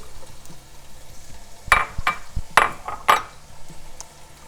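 Carrot and onion for a Bolognese sofrito frying in hot extra virgin olive oil, a faint background sizzle broken by a few sharp metallic knocks and scrapes of a utensil against the pan.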